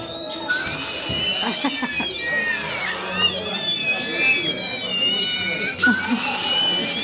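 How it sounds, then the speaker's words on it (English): Shrill, wavering wails like crying babies from a mandrake prop at the Warner Bros Studios Harry Potter tour carry on almost continuously, loud and close, with some talking underneath. "them mandrakes are noisy"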